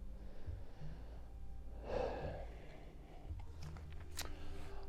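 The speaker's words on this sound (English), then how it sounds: "Take a couple deep breaths." Deep, heavy breaths during a fitness workout cool-down, a few slow inhales and exhales near the microphone with a sharper gasp-like breath midway, over a low background hum.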